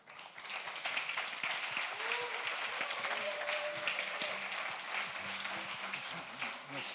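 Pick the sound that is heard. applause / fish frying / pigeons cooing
applause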